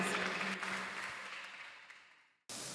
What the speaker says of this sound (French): Applaudissez-les.